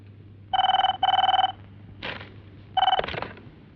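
A telephone rings in a Kannada film scene: two close, loud bursts of trilling bell, a short pause with a rustle, then a third ring cut off as the handset is picked up.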